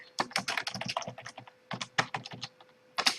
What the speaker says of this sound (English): if you go to our catalog and type in a title of a book